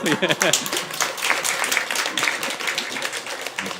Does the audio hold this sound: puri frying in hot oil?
no